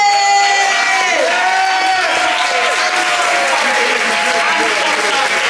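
An open mic night audience applauds and cheers for a poet, with dense steady clapping, whoops and crowd voices filling the whole stretch at close range.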